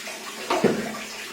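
Short splash of water poured over the body during a bath, one quick pour landing with a brief wet slap amid faint background hiss.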